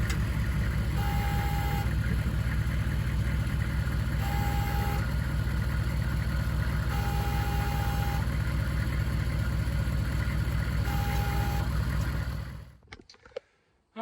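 A 1971 Oldsmobile Cutlass Supreme with a dead battery is jump-started off a truck; a steady engine drones loudly and evenly for about twelve seconds with faint intermittent beeps, then cuts off abruptly.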